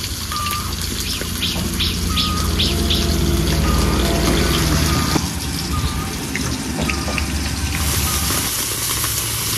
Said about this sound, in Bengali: এবার ধুয়ে নিয়ে আসবো।